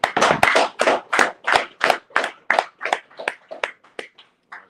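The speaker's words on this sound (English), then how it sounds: "Clap it up." A congregation at a Sabbath service claps hands in unison, about fifteen sharp, rhythmic claps in a steady beat, close and loud, gradually growing softer and sparser toward the end.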